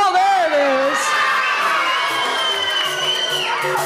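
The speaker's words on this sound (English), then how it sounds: "let's scream power" A crowd of children at a Monday night vacation Bible school opening assembly screams and cheers together, loud and sustained throughout, with shouted, wavering voices rising and falling over a dense wash of crowd noise.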